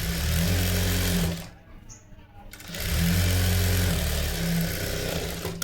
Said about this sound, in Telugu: కింది బాజుకు కూడా మనం స్టిచ్చింగ్ చేసేసుకోవాలి.